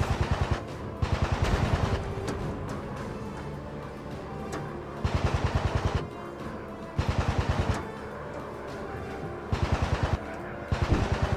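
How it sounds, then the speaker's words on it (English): Cannons of a WW2 fighter plane firing in a VR combat game: several rapid bursts of machine-gun-like fire, each about a second long, separated by pauses filled with steady engine drone, fairly loud with no talking. "I'm gonna use cannons."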